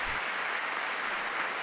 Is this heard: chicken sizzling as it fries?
no